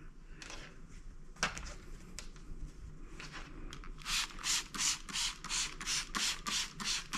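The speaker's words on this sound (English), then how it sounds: "So I'm going to give this a good spray." A handheld spray bottle misting fabric for a Halloween table runner before ironing, heard as a quick series of about eight close, crisp hissing spritzes in steady rhythm over faint room noise.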